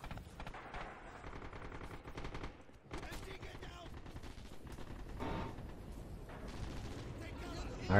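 Dense, continuous gunfire with machine-gun bursts and heavy explosions in a Red Orchestra 2 multiplayer battle at Bridge to Despair, loud and relentless throughout, with a voice speaking in the mix.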